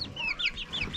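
Chinese silkie hens, nervous after being moved to new housing, cluck and call close by in a steady, overlapping chatter with no talking.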